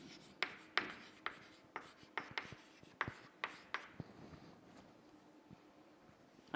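Chalk or marker taps and scratches on a board during a surveying lecture, a quick series of sharp strokes that thins out into quiet room tone.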